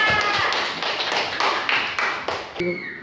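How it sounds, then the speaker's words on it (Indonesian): Clapping in a classroom, a short burst of quick hand claps from a group of pupils, close and fairly loud, with a voice breaking in near the end. "Tepuk tangan untuk Tea."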